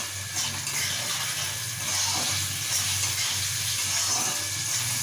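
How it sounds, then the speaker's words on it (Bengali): Spices frying in a pan for a hilsa fish curry, a steady close sizzle and crackle of hot oil running throughout with no talk. "ততক্ষণ এটা ভাজা হোক বন্ধুরা"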